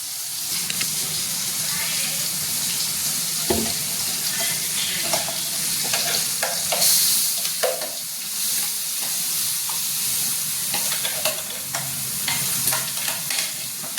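A spoon stirs ridge gourd chutney in a pan, scraping and sizzling steadily with a few louder knocks against the pan, close by and with no talking.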